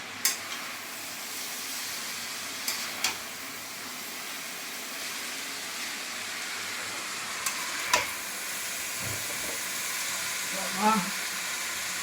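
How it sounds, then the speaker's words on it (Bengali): Chowmein with egg being stir-fried in a wok, a steady sizzle and hiss running throughout with occasional sharp clinks of the spatula against the pan, close and moderately loud. "আমি নেড়ে চেড়ে করি"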